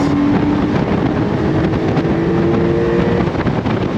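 A 2025 Porsche 911 Carrera T Cabriolet with a six-speed manual accelerating hard on throttle, a steady close engine roar heavily blended with rushing wind noise from the open top, no talk.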